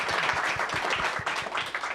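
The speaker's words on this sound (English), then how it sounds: "Round of applause for Amy." Audience applause after a civil discourse panel introduction, fairly quiet with individual claps standing out in an uneven rhythm over a soft hiss of clapping, no talk.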